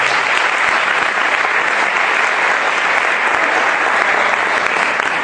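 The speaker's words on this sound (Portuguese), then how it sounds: "Você pode aplaudir o nome de Deus nesta noite?" A church congregation applauds during an evening Father's Day service, dense and loud clapping sustained evenly throughout with no speech.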